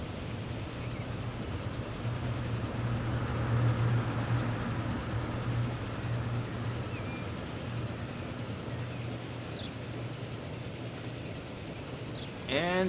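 Local passenger trains run through a station in the Transport Fever video game, set around 1911 in a European freeplay map, giving a steady rumble with a low hum throughout, fairly loud and continuous, with a brief higher chirp near the end.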